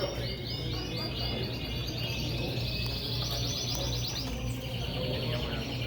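Type canaries at a crowded indoor canary show, many birds trilling and chirping in rapid repeated phrases over a steady low hall hum and background murmur.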